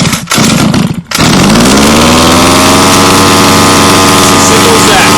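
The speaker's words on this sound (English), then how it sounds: "We're going to pull the pull start just a couple times until we hear it fire." A small Baja engine is pull-started with a couple of rapid cord pulls, catches, and settles into a loud, steady close-up running drone.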